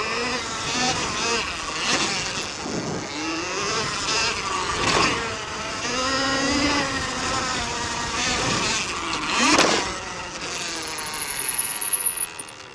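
Electric Motion Escape electric motorcycle (2020) riding at partial throttle, a steady whining motor drone with shifting pitch that rises and falls, mixed with wind and rolling noise throughout; nobody speaks.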